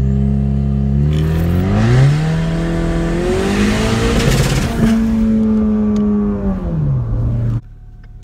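Car launching from a standstill with an automatic start on a 0-60 run, the engine roaring loud and close as it climbs through several gear shifts with brief dips between them, then dropping to a low idle at the end.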